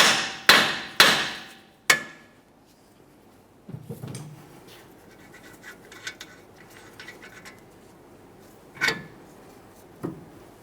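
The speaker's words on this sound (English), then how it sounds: "use a hammer and we'll tap on the steering knuckle, causing vibration, and it should shake it free" A hammer strikes a steering knuckle on a 2011-2020 Toyota Sienna in several sharp, ringing taps, first in a quick cluster, then a few spaced hits with quieter clatter between.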